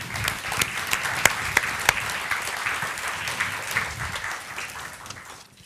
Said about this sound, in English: welcome our lecturer for the day with a big round of applause